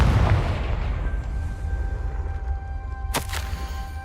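A Confringo blasting spell in a Harry Potter video game, a low rumbling boom that fades out, followed by a sharp crack near the end, over a soft game ambience.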